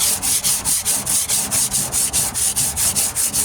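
Steady rhythmic rasping of 40-grit sandpaper on a rusty 1998 Ford Ranger steel tailgate, about four strokes per second, loud and close with a gritty scraping texture throughout.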